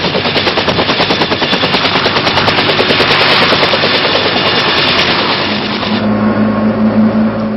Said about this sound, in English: The Iroquois, with its jet rotor speed, is especially good for casualty pickup.